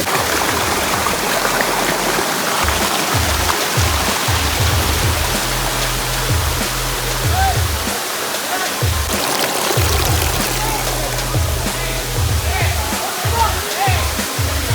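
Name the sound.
waterfall at Palakonda, Kadapa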